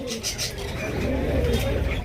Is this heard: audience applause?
no